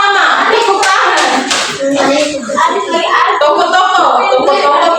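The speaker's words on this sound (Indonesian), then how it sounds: "Tepuk tangan untuk Putra." Children clap their hands together in a classroom, a dense, loud run of clapping lasting several seconds with voices mixed in beneath it.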